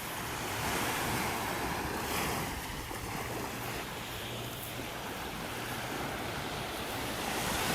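Ocean waves wash onto a steeply sloped beach in North Naples, Florida, a continuous loud surf roar with wind buffeting the microphone throughout, no voices.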